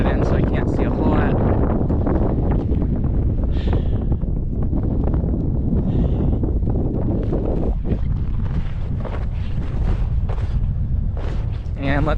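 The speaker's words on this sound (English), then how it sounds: "The wind's definitely not nearly as bad as it was last night." Strong wind buffets a mountaintop fire lookout on Squaw Peak in the aftermath of a winter blizzard, a loud, steady roar with gusty rumbling against the microphone that continues throughout the whole stretch.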